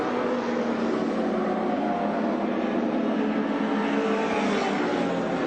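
Touring race cars at full throttle on the Lakeside circuit during a 1984 Australian Touring Car Championship round, engines roaring in a dense, sustained blare from a closely battling pack with no pause.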